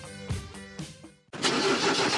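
A diesel car engine with Hescher glow plugs cranks in short loud bursts, then catches and settles into a steady, loud running roar.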